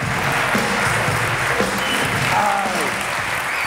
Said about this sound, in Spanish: reciban con un fuerte aplauso a Ana Polo